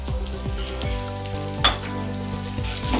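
Steady close-up sizzling of ground date paste frying in hot ghee over a low flame, with a few soft stirring scrapes and pops over a continuous low crackle.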